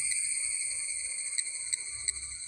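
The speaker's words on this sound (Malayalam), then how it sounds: "നിറച്ച് ചീവീടാണ് കേട്ടോ ഇവിടെ" Continuous shrill, high-pitched buzzing of cicadas in garden trees, including a cashew tree, loud and unbroken, with a few faint clicks.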